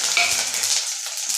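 Garlic tossed into hot oil for a puli keerai kadayal sputters and sizzles briefly, a bright crackling hiss that fades quickly to a softer frying hum.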